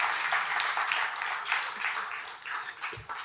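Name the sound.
audience applause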